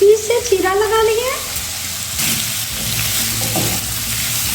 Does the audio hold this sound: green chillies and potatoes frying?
yes